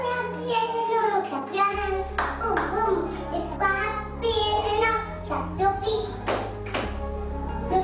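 Hands clap along with the Spanish children's song "If You're Happy and You Know It", with children's voices and a steady low hum underneath throughout.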